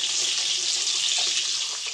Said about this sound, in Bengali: আর এদিকে দেখো মাছ ভাজা বসিয়ে দিয়েছি